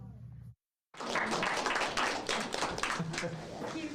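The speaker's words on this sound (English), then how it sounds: "thank you for your applause" Audience clapping at a school board meeting right after the Pledge of Allegiance, a sustained patter of hands that starts after a brief silence and carries on steadily, fairly faint in a room.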